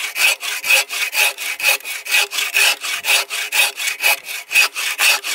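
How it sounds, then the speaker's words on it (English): Steady back-and-forth strokes of a hand saw cutting through firewood at a winter lakeside camp, about two strokes per second, close and loud with an even rasping rhythm and no talking. "get back to cutting firewood"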